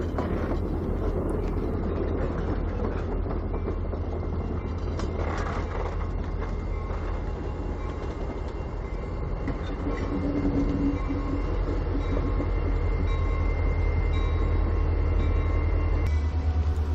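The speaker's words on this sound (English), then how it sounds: "Shortly afterwards, when the train finally hooked up, then later got underway" Norfolk and Western steam locomotive train getting underway near St. Louis, a steady, loud rumble of rolling rail cars and heavy machinery continuing throughout without voices.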